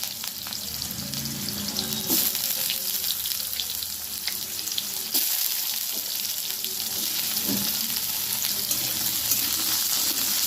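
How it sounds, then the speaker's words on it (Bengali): Potatoes fry in hot oil in a pan with panch phoron, green chillies and bay leaves, a steady dense sizzle with occasional stirring clatter and scrapes, close and continuous throughout. "আমি আলুগুলো খুব ভালোভাবে ভেজে নেব।"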